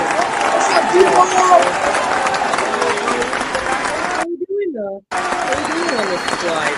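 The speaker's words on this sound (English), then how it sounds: "I think that was the longest applause ever" A game show studio audience applauds steadily for contestants, with a voice talking over the dense clapping and a brief pause before the sound resumes.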